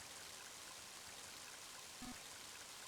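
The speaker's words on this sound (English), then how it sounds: "Mighty heavy rain, isn't it?" Heavy rain pours in the video game Mother 3, a faint, dense, even hiss of falling water with no voices over it.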